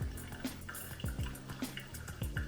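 Hot water is poured from a kettle over ground coffee in a V60 dripper, a quiet trickling stream with small splashes and drips recurring in a loose rhythm, close and faint.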